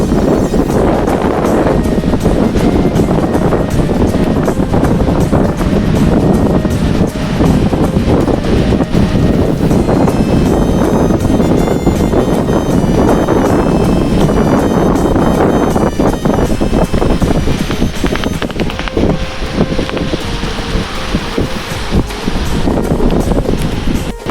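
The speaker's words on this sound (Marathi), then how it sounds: "नाही रे लाट आहे" Rough sea waves surge and crash around a boat during net fishing, heard as a loud, continuous wash with strong wind buffeting the microphone.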